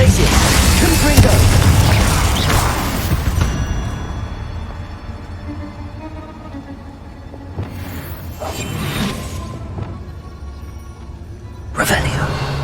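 Confringo fire spells exploding in the Hogwarts Legacy game, with heavy booming bursts and whooshes early on, then quieter blasts around eight to nine seconds and a sharp final burst near the end, mixed with voices speaking.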